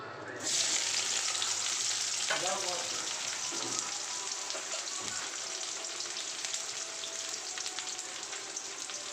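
Onions hit hot oil in a pan for a chicken dish with a sudden loud sizzle that settles into a steady, close frying hiss, with a few faint stirring knocks.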